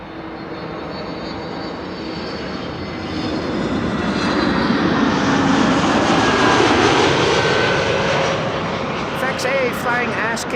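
A KLM airliner on Flight 1006 from London Heathrow lands at Amsterdam Schiphol, its engine roar building steadily from moderate to loud and close, then holding broad and rumbling to the end.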